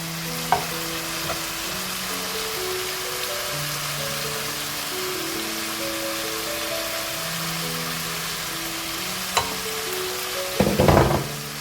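Spiced masala for a beef dish sizzles steadily in a pan as yogurt goes in, with a few scraping stirs and a clattering burst near the end.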